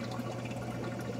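Water bubbling and trickling from the drain line of a Clear Water Scrubbers CW-50 algae scrubber in an aquarium setup, a steady close gurgling flow with a low pump hum underneath.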